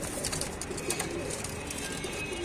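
Pigeons, including clipped breeding birds with their young, coo softly and repeatedly in a loft over a steady busy background hum.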